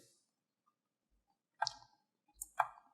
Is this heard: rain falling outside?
no